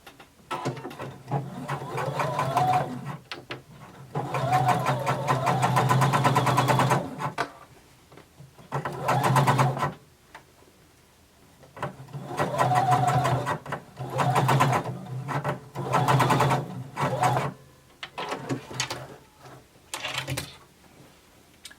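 A sewing machine runs a long basting stitch to hold a seam allowance in place, with several bursts of rapid mechanical whirring and clatter separated by short pauses.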